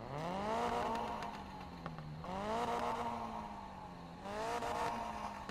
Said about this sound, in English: Let's hear the car.